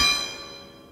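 A single bell strike rings out in a video game, a bright metallic clang that decays steadily over about a second with no talk.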